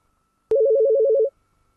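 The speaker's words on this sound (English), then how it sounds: "I can dial it." A telephone dialing tone during a conference session: a sharp click, then one steady electronic tone held for about three quarters of a second, loud and clear against near silence with no talking.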